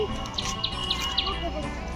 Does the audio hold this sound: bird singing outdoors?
yes